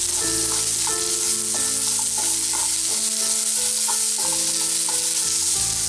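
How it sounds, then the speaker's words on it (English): Onions frying in a little oil, a continuous close sizzle running throughout while unrelated tonal music plays over it, with no talk. "Add a teaspoon of oil. Add onions. Cook for few minutes."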